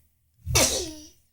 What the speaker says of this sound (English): Why are you sneezing?